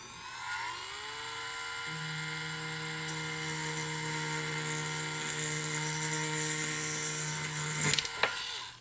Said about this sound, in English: we got to drill into this fella here, which is the half that broke, right?